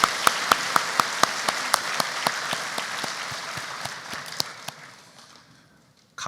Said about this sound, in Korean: 격려의 박수를 한번 하겠습니다.